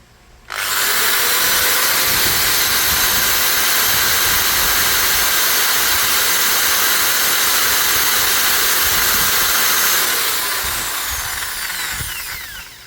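Bosch GBM350 electric drill running steadily at full speed, a loud, close, continuous high whine that holds for about ten seconds before slowly tapering off.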